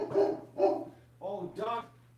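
A dog barks four times in short, sharp, close bursts in two pairs, with a voice talking around the barks.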